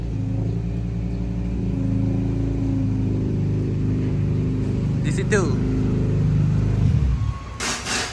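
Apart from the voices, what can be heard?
Honda Integra DC2 engine revving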